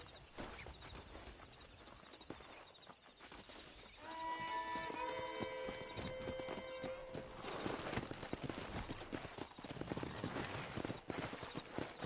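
Horses in the Western video game Red Dead Redemption run with rhythmic clip-clop hoofbeats under game ambience, brief tonal music and a neigh joining midway, faint overall.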